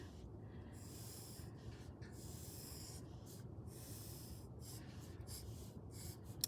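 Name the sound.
writing letters in a sketchbook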